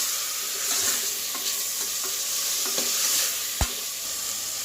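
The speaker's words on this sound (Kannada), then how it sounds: "ಟೊಮೆಟೊನ್ನು ಚೆನ್ನಾಗಿ ಫ್ರೈ ಆಗಬೇಕು ಫ್ರೆಂಡ್ಸ್." Tomatoes frying in a pan give a steady sizzle, with several soft stirring scrapes and one sharp clack of the spoon against the pan near the end, close up and with no one talking.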